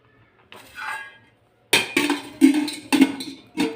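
A bundle of tied amaranth set into a metal pressure cooker, giving a few sharp clanks and knocks of metal on metal in quick succession after a brief softer rustle.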